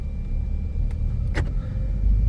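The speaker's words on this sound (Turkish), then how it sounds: "Kapılar otomatik bir şekilde kilitlendi sesi duydunuz." Inside a moving Ford Focus with a low engine rumble, a short soft click and then a brief mechanical thunk as the door locks engage automatically.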